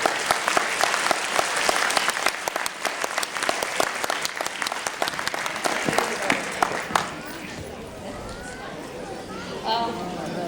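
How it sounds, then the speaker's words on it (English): Audience applause at a Diwali community event, a dense wash of clapping for about seven seconds that thins and fades, followed by scattered murmuring from the crowd. "Let's give him a big hand of applause."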